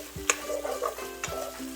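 Vegan egg is stir-fried and tossed together in a pan, a close sizzle broken by a couple of quick scraping stir strokes.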